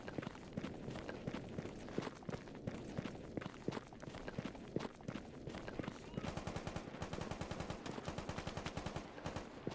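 Gunfire in STALKER GAMMA crackles in a dense run of quick sharp reports, with footsteps and movement mixed in, the shots growing faster and more regular like a burst toward the end.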